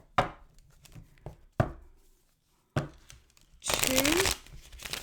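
Tarot cards being shuffled by hand in a few short riffling bursts separated by pauses, ending in a longer, denser flurry with a voice briefly audible over it.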